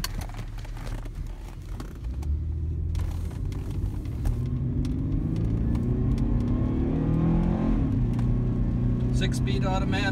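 A 2011 Cadillac CTS Luxury with a six-speed automatic accelerates while driving in light rain, its engine note rising as a steady, loud rumble and whir fills the cabin with no talk.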